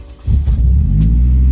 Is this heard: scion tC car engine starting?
yes